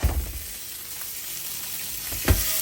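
Lincolnshire-style sausages sizzle loudly in hot oil in a pan as they are turned, a steady bright frying hiss with a couple of heavier spits and scrapes.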